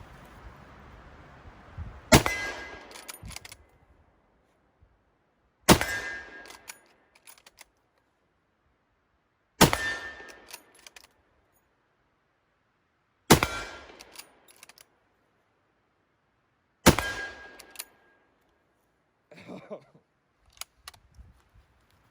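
A Finnish M39 Mosin rifle fires five 7.62x54mmR rounds. Five sharp, loud reports come at roughly even intervals of three to four seconds, with metallic bolt-cycling clatter following each shot.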